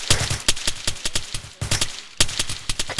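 Rapid bursts of gunfire in an Arma 3 military firefight, sharp close shots firing in quick uneven clusters with brief gaps between volleys, loud and alone without speech.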